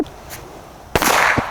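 A single sharp gunshot-like crack rings out near a Labrador in hunting dog training, loud and abrupt after a quiet stretch, with a short echoing tail.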